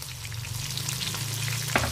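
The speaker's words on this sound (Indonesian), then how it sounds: "Sekarang kita nak goreng ikan bilis kita." Anchovies fry in hot oil in a home kitchen while being stirred, a steady dense sizzle and crackle, near and continuous, with a sharp clatter near the end.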